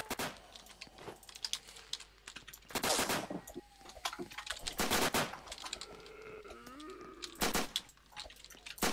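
Bursts of gunfire from an M14 in the video game Apocalypse Rising, several sharp rapid volleys spaced irregularly among quieter game noise, fairly faint overall.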